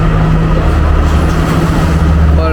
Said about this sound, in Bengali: অনেক জল্পনা কল্পনার পরে চলে আসছে সেই বিখ্যাত ট্রেন